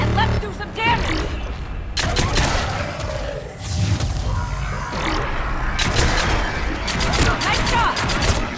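Mass Effect 3 combat on Thessia: repeated bursts of gunfire and booming impacts crackle through a dense battle mix, with voices calling out between the shots.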